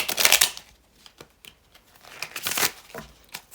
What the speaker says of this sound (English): give this one more shuffle first